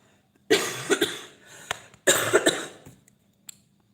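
Two bursts of harsh, wet coughing, each a cluster of several coughs, close up, with a faint throat click at the end.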